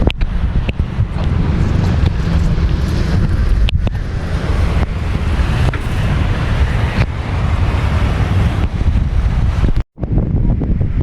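Strong, steady southwest monsoon (habagat) wind roaring and buffeting close to the microphone for the whole stretch, with a brief dropout near the end.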